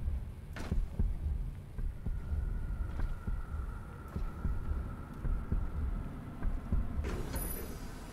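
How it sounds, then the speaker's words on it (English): Power generator in the Doom Eternal video game, thudding with a slow, heartbeat-like throb roughly once a second over a low steady hum and a faint sustained tone, with a sharper knock near the end. "I'm just hearing like a heartbeat so strong"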